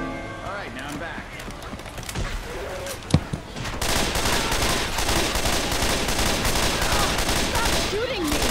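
Rapid gunfire from Left 4 Dead, sharp bursts and dense sustained shooting that builds after the first few seconds and runs loud to the end, with game sounds and chatter layered in.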